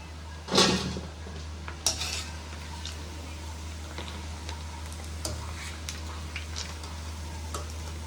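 Food frying in peanut oil in a pan, with a low steady sizzle under scattered clinks and taps of utensils against metal, and one sharper clatter near the start.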